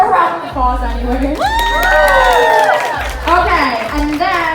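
A crowd cheers and shouts loudly, with excited voices and some clapping rising and falling for several seconds, mixed with children shouting at a live tour event.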